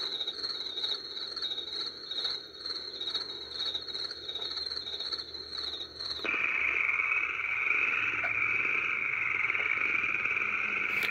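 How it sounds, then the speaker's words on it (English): Electronic cricket chirping from a JUHOT baby white noise sound machine with night light, a steady synthetic trill that shifts abruptly midway to a different pitched, hissier cricket loop, faint and continuous with no talking. "I think that's supposed to be crickets."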